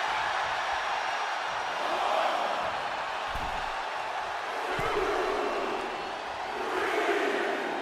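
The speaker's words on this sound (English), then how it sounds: "The sound of this crowd is deafening" A large wrestling arena crowd roars continuously throughout, loud and dense, with a couple of sharp thuds of slams or impacts ringing out over the steady din.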